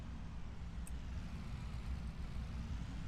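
Truck engine in Farming Simulator 25 while driving, a quiet, steady low rumble that holds evenly throughout with no talk over it.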